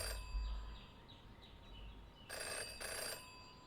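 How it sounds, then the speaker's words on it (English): A telephone rings in the video game Jenny LeClue, a faint first burst followed by two louder, evenly spaced electronic rings over a quiet background. "Oh, the phone is ringing."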